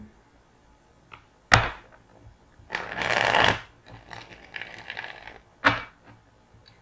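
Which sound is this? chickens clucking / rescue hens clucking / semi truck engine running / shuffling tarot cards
shuffling tarot cards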